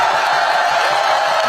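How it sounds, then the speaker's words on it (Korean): A Korean presidential campaign rally crowd roars and claps, a dense, loud, continuous wash of cheering and applause with no single voice standing out. "큰 함성과 박수를 보내주시기 바랍니다."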